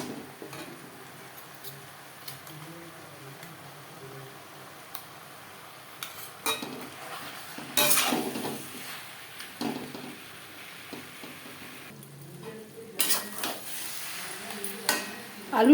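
Potato, onion and tomato with spices are stirred in a pan, giving sparse scraping clinks of a utensil against metal, with a few louder knocks and quiet gaps between.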